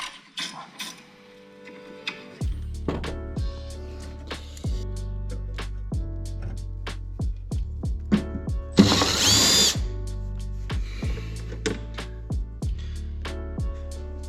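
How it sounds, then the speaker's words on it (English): A socket tool removes two bolts on a Mk5 Volkswagen Rabbit, giving a rapid series of sharp, evenly spaced ratcheting clicks that run through the whole stretch, close by, with tonal background sound underneath and no speech. "Millimeter socket, take these two bolts out."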